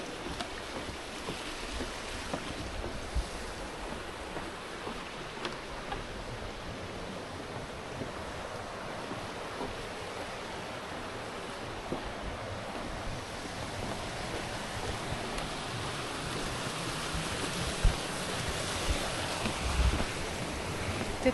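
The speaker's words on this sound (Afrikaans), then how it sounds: "Hoor hoe lekker vloei daai water." Steady rushing water at a scenic lookout, a broad continuous wash with gusts of wind buffeting the microphone, loud and unbroken throughout with no voices.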